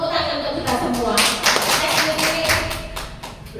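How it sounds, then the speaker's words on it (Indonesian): A group claps hands in a brisk burst, sharp taps standing out over a murmur of voices in the room. "Tepuk tangan untuk kita semua."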